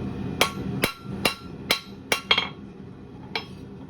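Blacksmith's hammer striking hot steel on an anvil while drawing out a point, seven sharp ringing blows at an uneven pace, close and loud, with a faint hum of the forge underneath.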